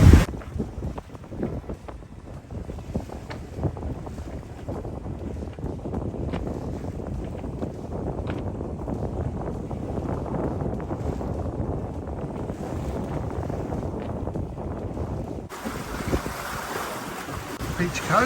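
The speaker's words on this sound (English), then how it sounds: "Wind is definitely easing, but also veering quite a bit." Steady wind rushes and waves wash against the hull of a sailing catamaran heading from Wellingtons Bay to Whangarei. The noise is continuous, close and moderately loud throughout.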